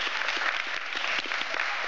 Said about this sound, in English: And give Lisa a round of applause there.